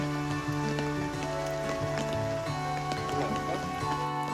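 Steady rain falls on a campsite, a continuous patter and drumming on surfaces heard beneath louder background music that runs throughout.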